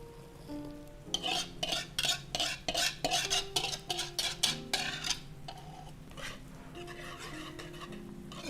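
Ginger, orange and lemon zest and vanilla stirred together in a bowl, giving a run of quick scraping, clinking strokes up close, with a faint hum behind.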